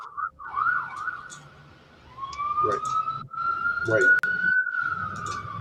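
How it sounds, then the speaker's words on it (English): A wailing emergency siren rises and holds steady in the distance, passing by under and between a man's speech during an outdoor corporate briefing. "I know we got a siren going on. We'll just let it pass for a second."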